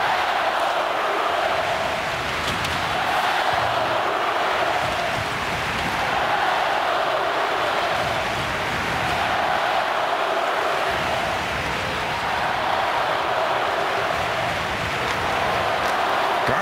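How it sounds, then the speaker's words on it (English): Hockey arena crowd at a Toronto Maple Leafs versus Boston Bruins game chanting in a steady, distant, reverberant wash of voices that holds evenly for the whole stretch. "Let's go Bruins, the chant from the crowd."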